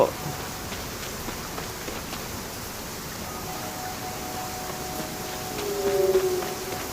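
Steady rain falls, heard in Sky: Children of the Light and in real life, a dense continuous hiss throughout with faint tonal hums underneath and a slight swell near the end.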